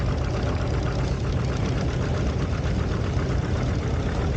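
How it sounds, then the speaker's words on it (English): A 1948 Ford 8N tractor engine runs steadily in a parade, a loud, continuous low chugging drone with no pauses and no voices over it. "Quinn is driving a 1948 Ford 8N"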